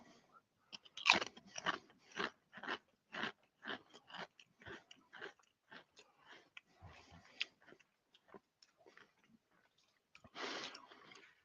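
Crunching and chewing of black pepper and parmesan Pringles chips, a rapid series of close, crisp bites and chews that thin out before one last loud crunch.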